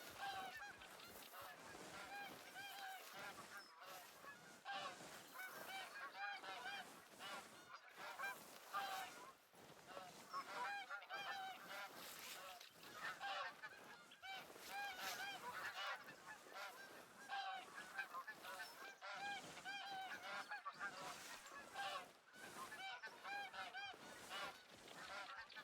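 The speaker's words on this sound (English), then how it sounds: "These bastard geese constantly honking with their mockery." Geese honking in The Hunter: Call of the Wild video game, a flock giving continuous overlapping honks throughout, steady and moderately close.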